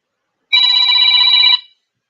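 A telephone rings with an incoming call during a live-stream call-in show, one steady electronic ring burst of about a second, loud and close, with no voices over it.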